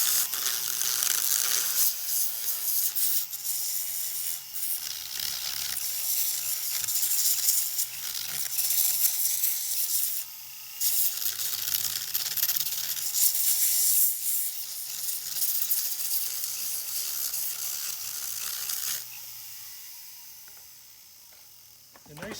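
A sanding machine fitted with Velcro sandpaper discs on both sides runs slowly. It gives a steady, hissing, scratchy whir close by, with brief dips, and dies away near the end.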